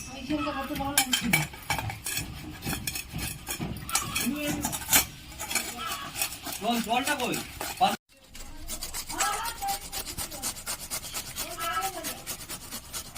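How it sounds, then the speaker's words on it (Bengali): Half a bottle gourd, seeds removed, is rubbed against a hand grater in quick, repeated rasping strokes, with a voice talking in the background. "এবারে এরকম একটা গ্রেটার দিয়ে আমি গ্রেট করে নেব।"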